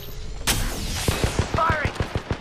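Rapid video-game gunfire in a squad battle-royale fight, a regular burst of sharp shots at close range following a loud opening blast, with a voice talking over parts of it.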